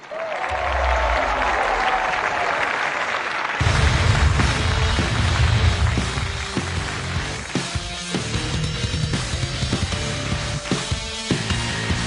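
Arena crowd applause and cheering as a Chinese Kazakh fighter is introduced at a combat sports bout; a dense roar swells, then gives way to thumping music and rhythmic beats under the continuing crowd noise.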